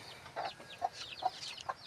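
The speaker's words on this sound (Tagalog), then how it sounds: "yan ang lalaki po namin na manok" A large bornok rooster on a farm gives several short, soft clucks at a steady pace, fairly close and alone against a quiet background.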